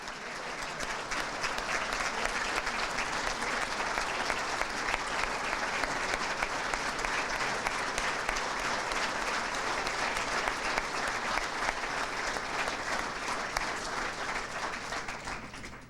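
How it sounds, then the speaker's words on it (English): A large audience at a school district athletic hall of fame ceremony applauds the inducted class, a dense, steady wall of clapping lasting about sixteen seconds at an even level, then tapering slightly at the end. "a round of applause for the 2016 class of the Hamilton City School District Athletic Hall of Fame."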